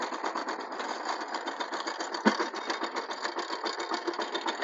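A power tiller engine runs steadily during field work, giving a continuous rapid chugging rattle at close range with no voices over it.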